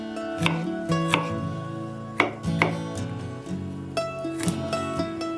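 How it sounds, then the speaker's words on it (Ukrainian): A knife chops onions on a cutting board in irregular strokes, a few sharp knocks spaced about a second apart, close and moderately loud. "Для начинки спочатку подрібнюємо дві невеличкі цибулі."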